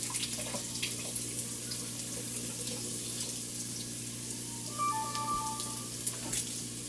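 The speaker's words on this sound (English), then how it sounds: "I'm going to drain chickpeas that have been soaking overnight" Soaked chickpeas drained and rinsed under a running tap into a sink, a steady broadband water rush with a low hum beneath and brief higher tones near the end, no talking.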